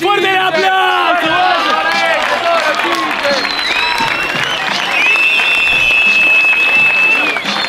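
Roaring audience applause with cheers and whoops at a freestyle rap battle final, loud and continuous, voices shouting over the dense clapping and a whistle ringing out midway.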